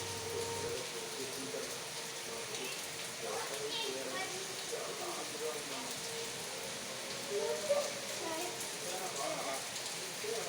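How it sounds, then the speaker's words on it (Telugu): A heavy afternoon downpour makes a steady, dense hiss of rain drumming on surfaces, even and continuous throughout, with a faint voice audible in the background. "చాలా జోరుగా వాన వస్తూ ఉంది"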